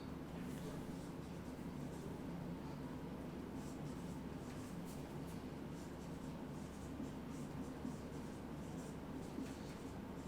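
Pen or marker writing steadily during a chemistry lecture on resonance, a faint continuous scratching over low room hiss with no talk.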